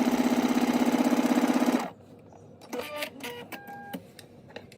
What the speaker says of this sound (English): now I'm going to go ahead and stay stitch the right bodice front